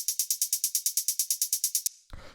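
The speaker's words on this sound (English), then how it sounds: "sharper, more like drum machine style hi-hat." Crisp drum-machine hi-hat for raw techno, about seventeen short, sharp ticks in a fast even run, then a brief low thump and rustle at the end.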